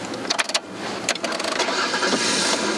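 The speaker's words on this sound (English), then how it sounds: "When an engine revs" A car engine starts and revs, with a few sharp clicks and bursts at first, then a rising, steadily louder engine roar toward the end.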